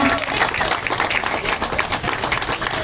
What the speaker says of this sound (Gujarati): તાળીઓથી વધાવી લઈશું ભાઈઓ.